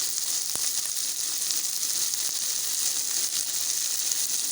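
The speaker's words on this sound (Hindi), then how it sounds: "कितना अच्छे तरीके से फ्राई हो रहा है" Keema fries in oil with onions and a spoonful of cumin for a karela keema dish, giving a steady, close, even sizzle with no talk over it.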